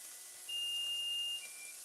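Kitchen timer going off after twenty minutes, a single sustained high-pitched electronic beep lasting about a second, clear and fairly close against a quiet hissy kitchen background.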